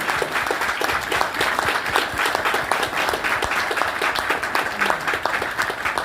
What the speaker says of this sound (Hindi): मैं चाहूंगा कि एक बार जोरदार तालियां मेरे ग्रेट अप्लाइन